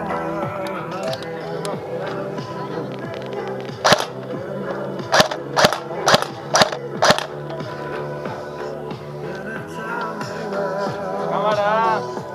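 Airsoft guns fire sharp snapping shots, a lone crack followed by a quick burst of four or five, amid background chatter and movement at an outdoor field.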